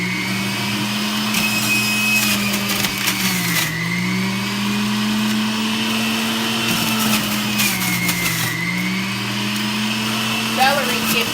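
Juicer running on high speed as firm celery is fed through, a loud steady motor hum whose pitch sags and recovers as stalks are pushed in, with a voice talking over it.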